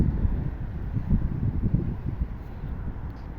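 Wind gusts on a cold March day outside the Oleksandriia city theatre, buffeting the microphone with a low, uneven roar that swells and fades, with no voices.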